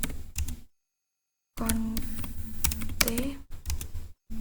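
Router commands being typed on a computer keyboard, quick clusters of sharp key clicks with a short silent gap, while a voice speaks over the typing.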